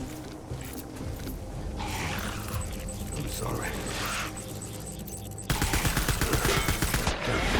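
Rapid gunfire from the video game Death Stranding, steady firing that breaks into loud, rhythmic automatic bursts toward the end, with voices speaking over the shooting.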